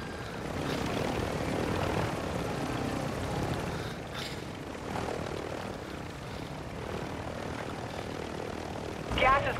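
Helicopter engine in Call of Duty: Modern Warfare II, a steady droning rotor and engine hum running throughout, with players talking over it and brief game effects near the end.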